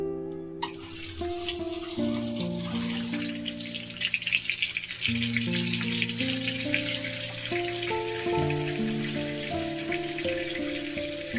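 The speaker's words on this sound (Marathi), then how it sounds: "मसाला आहे ना फ्राय होतोय" A soft, continuous sizzle of masala frying in a kadai, in which eggs are then fried, runs beneath louder background music.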